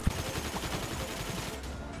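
Rapid gunfire in the video game GTA 5 aimed at civilians, a sharp loud shot at the start followed by continuous machine-gun bursts of even intensity.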